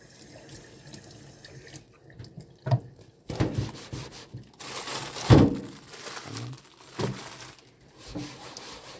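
Running tap water splashes into a small kitchen sink while a large item is washed, with irregular bursts of gushing water, knocks and crinkling handling noises, growing louder in the middle and ending in softer drips and splashes.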